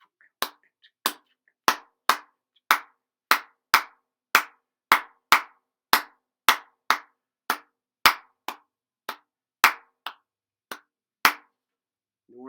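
Sharp hand claps in a steady, fast rhythm, about twenty crisp, close claps alone in a quiet room, evenly spaced and loud.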